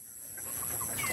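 Palawan native chickens cluck and call in a farmyard, several soft, short bursts rising over steady background noise and a high insect-like hum.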